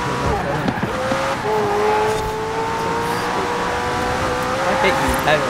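Racing cars in the Forza video game grind and collide under a steady, whining engine drone, with a couple of sharp knocks standing out near the start and the end.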